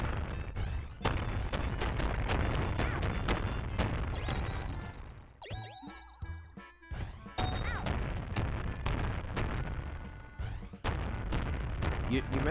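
Fireworks explosions in the SNES game Pinocchio, a dense string of loud crashing bursts and booms that keeps going throughout with a brief thinner stretch in the middle.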